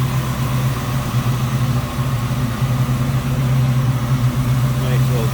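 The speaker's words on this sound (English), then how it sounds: "Coming out of that V8. Nice throaty exhaust note." A 1947 Chevrolet Fleetline street rod with a 383 stroker V8, Edelbrock four-barrel carburetor and headers idles with a steady, throaty, low exhaust rumble that stays even and close throughout.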